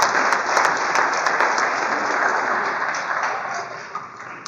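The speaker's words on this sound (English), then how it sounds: "I'm clapping for you." A school audience at a high school alumni panel claps steadily throughout, a broad even wash of many hands, with a few faint high pings over it.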